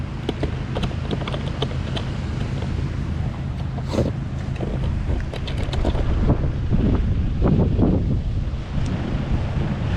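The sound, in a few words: wind and sea waves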